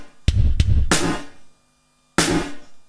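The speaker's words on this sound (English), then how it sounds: "Now we've got a really dark," A few sparse drum hits, each trailing into a deep, dark reverb tail with the top end removed, from a NonLin2 effect on a PowerCore 6000, fading out before the next strike.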